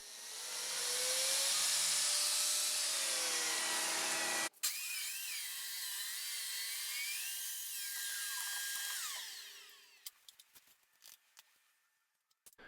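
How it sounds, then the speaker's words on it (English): A biscuit joiner whines loudly while cutting slots into wooden cabinet shelves, a steady high-pitched spinning roar that stops abruptly, then restarts and winds down into a few scattered clicks and knocks. "I also use my biscuit joiner to cut a slot in the shelves"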